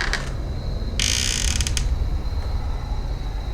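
A door creaks open in an old house, a loud strained squeal around the middle of the clip with fainter creaks before it, over a steady low background hum.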